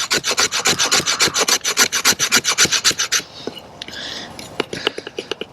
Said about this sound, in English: let me go ahead and try to see if I can scrape a little bit of this off here